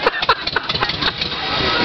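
A 1973 Volkswagen van engine cranks and then catches, loud and close, with rough chugging pulses that settle into a steadier running rumble.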